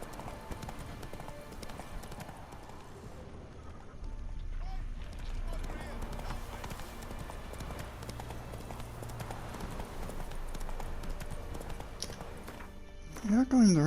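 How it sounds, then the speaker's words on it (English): Horse hooves clip-clop steadily in The Witcher 3 while the rider's horse moves across the land, a rhythmic, moderately loud gait under game ambience and a voice. "Whoa there, Roach."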